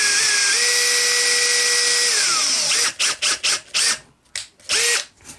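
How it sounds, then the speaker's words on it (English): A power drill bores holes for wiring through an Aztek dummy build: a long steady whine with a pitch shift, then a rapid series of short stop-start bursts, close and loud, with no talk. "Those are the two spots that I want to drill out for wiring."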